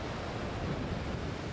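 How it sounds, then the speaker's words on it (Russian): Huge ocean waves crash steadily on the Pacific coast of Chile during a tidal surge driven by strong wind, giving a loud, unbroken roar of surf with no voices. "Тихоокеанское побережье Чили обрушились огромные волны"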